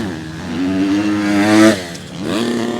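Motocross motorcycles racing at an MXGP event in Agueda, Portugal, with one engine revving steadily and climbing in pitch before backing off, then rising again, loud and close.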